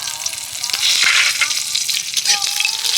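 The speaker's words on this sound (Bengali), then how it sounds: "সর্ষে ফাটা শুরু হয়ে গেছে তো এবার আমি কয়েকটা কারি পাতা দিয়ে দিচ্ছি" Black mustard seeds and curry leaves sizzle loudly in hot oil as a tempering for chutney. The frying crackle is close and continuous, with small pops and spits throughout.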